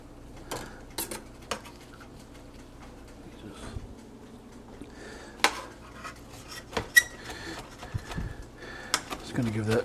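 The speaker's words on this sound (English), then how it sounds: "Just gonna give that just a little chop." A knife chops fresh basil on a cutting board, making a few sparse, light taps and clicks with some kitchen clatter between them, under background talk.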